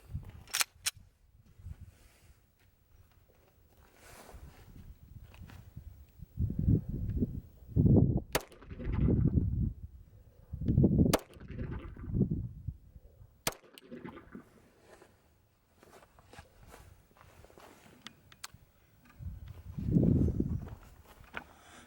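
A Glock 17 pistol is fired from 5 feet in a group of three, sharp isolated cracks spaced irregularly among quieter handling noise and low rumbling sounds.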